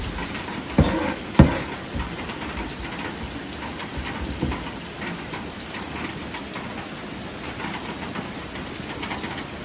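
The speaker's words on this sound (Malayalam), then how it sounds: "ഇവിടെ നല്ല മഴയുണ്ട് കേട്ടോ അടിപൊളി മഴയാണ്" Steady, dense hiss of heavy rain over flooded paddy fields fills the whole stretch, with a couple of sharp knocks early on and no voices.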